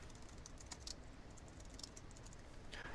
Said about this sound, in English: I'm going to type in direct words